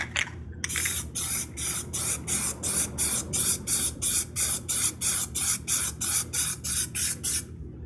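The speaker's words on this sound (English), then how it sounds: "we're going to put our first coat of the Plasti Dip spray on." Plasti Dip aerosol spray hisses in a steady series of short bursts, about a dozen evenly spaced passes, close and crisp.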